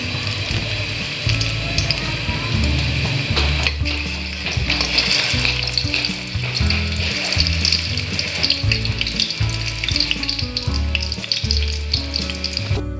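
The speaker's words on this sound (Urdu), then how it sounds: "میں ان کو اپنے طریقے سے ان کو اچھی طرح سے فرائی کر کے پھر مسالے میں ایڈ کروں گا" Beef koftas frying in hot oil, a loud, dense, continuous sizzle and bubbling heard close up with occasional clattering, and no voices.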